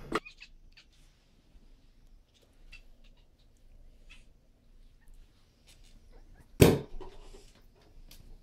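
A domestic cat sounds off in two brief, fairly loud bursts, one at the very start and a stronger one near the end, with faint scattered clicks and quiet room noise between them.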